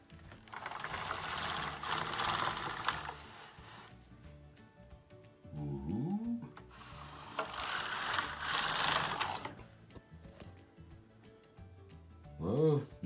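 A Singer Memomatic knitting machine doing round knitting, its carriage sliding across in two loud mechanical clattering passes with ratcheting clicks, separated by a quiet pause, with a person speaking briefly between passes.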